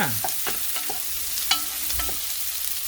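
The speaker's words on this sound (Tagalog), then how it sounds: "So lagay na rin natin guys yung ating sibuyas" Onion and chili hit a hot pan and are sautéed, with a steady close sizzle and a few sharp scraping stirs of a utensil against the pan.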